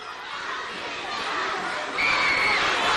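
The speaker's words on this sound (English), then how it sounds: "You hear that crowd, DTA." Wrestling arena crowd roaring and cheering continuously, a dense wash of shouting voices that swells louder about two-thirds of the way through, with a sustained whistle or shrill yell rising above the noise.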